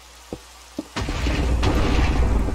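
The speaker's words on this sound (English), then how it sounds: "Two lightning strikes in the same spot, okay." A lightning strike with thunder in the Minecraft video game: two soft, separate thumps, then a sudden loud, close crash that rolls into a sustained crackling rumble lasting to the end.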